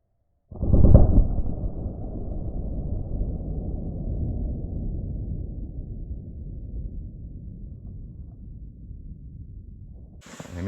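A .357 Magnum round is fired into a ballistic test target, one loud boom up front followed by a long, rumbling decay that fades over several seconds, then a brief sharp noise at the end.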